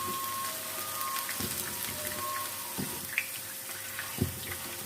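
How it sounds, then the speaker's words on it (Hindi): Chicken snacks frying in fully heated oil, a soft steady sizzle and crackle with occasional small pops and thuds, fairly quiet and without speech. "अभी हम चिकन स्नैक्स को फ्राई कर लेते हैं।"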